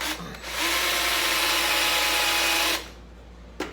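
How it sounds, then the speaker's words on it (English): A drill press whines steadily as it bores into wood for a wooden bat for nearly three seconds, loud and close, then spins down into quiet with a brief clunk. "I'm going to put a piece of masking tape on my drill bit and use my drill presses"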